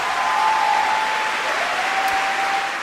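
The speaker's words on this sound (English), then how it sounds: "And the crowd goes crazy, of course." Crowd at a live darts event between Luke Littler and Ben Robb applauding and cheering, a steady, dense roar of clapping that holds loud for about three seconds with a faint tone running through it.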